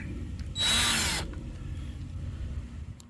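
A power driver briefly whirs to loosen a small bracket screw on a hot tub topside control keypad. It is a single loud, close burst lasting about half a second, surrounded by low room hum.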